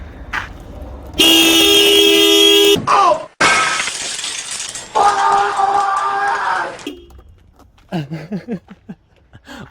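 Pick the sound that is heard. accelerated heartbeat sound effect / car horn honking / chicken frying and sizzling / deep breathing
car horn honking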